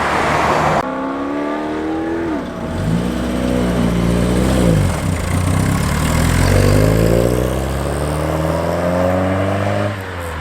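A classic car's engine at a cars and coffee meet revs and rises in pitch, settles back, then revs up again, loud and close with no talk over it.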